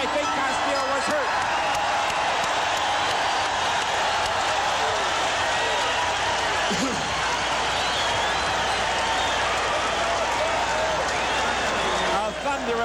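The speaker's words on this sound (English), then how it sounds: "A thunderous ovation from this crowd, and justifiably so, Tex" A boxing crowd giving a loud, sustained ovation at the Julio Cesar Chavez versus Ruben Castillo fight, a continuous roar of cheering and clapping from a large arena with no lulls, with commentary voices running over the noise.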